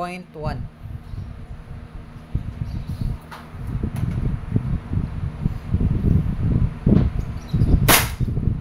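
A WE 1911 airsoft gas blowback pistol, made in Taiwan, fires over a chronograph: several sharp pops spread across the span with mechanical clatter, one especially crisp report near the end, all under a steady room hum.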